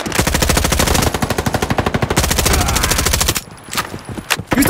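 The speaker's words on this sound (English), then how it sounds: "We're getting sniped at." Rapid automatic gunfire in the Roblox Frontlines shooter game, a loud continuous stream of shots that stops abruptly and is followed by a few scattered bursts.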